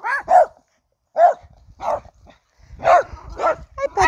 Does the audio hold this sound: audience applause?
no